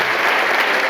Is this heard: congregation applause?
yes